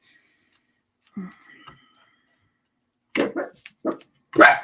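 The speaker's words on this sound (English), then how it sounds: "There goes the dogs barking." A dog barks a few times in sharp, scattered bursts, moderately near, with quiet gaps between them.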